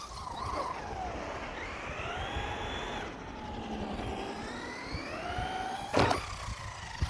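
A Traxxas Rustler 4X4 VXL RC car runs under throttle, its electric motor whine rising and falling steadily over several seconds, moderately close, with a sharp scrape or impact near the end and no talking.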